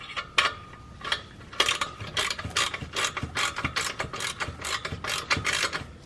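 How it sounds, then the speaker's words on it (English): A socket ratchet tightens a 13mm bolt on a V-band clamp of a BMW N55 downpipe, giving quick repeated metallic clicking strokes in steady bursts, close and clear, with no talking. "We can tighten the V-band clamp."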